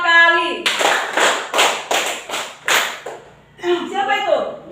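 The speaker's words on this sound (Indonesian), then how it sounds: "tepuk 3 2 kali." Students in a class clap in time, about six crisp rhythmic bursts in a row, bracketed by a teacher's voice calling out the pattern.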